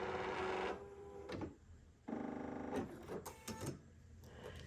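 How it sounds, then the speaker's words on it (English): A Bernina sewing machine runs its needle up/down motion in short mechanical whirring runs with humming motor tones, close and fairly quiet, with small clicks between runs. "I press my needle up down button here externally on my machine"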